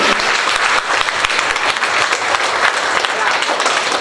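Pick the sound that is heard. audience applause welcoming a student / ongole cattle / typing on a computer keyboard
audience applause welcoming a student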